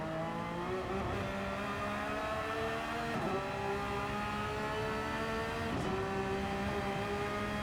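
A Porsche Cup race car engine revs steadily through corners, with its pitch dropping sharply under braking and then climbing again under acceleration several times. The sound is continuous, close and loud, with no talk over it.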